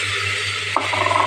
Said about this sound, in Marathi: तर आपण आता वाटलेला मसाला सर्व टाकून घेऊया.